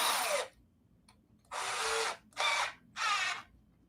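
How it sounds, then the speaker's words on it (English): A handheld power drill runs in four short bursts, whirring up and stopping between them, close and fairly quiet with no talking. "So now you take your drill, stick your bit in, wrong direction"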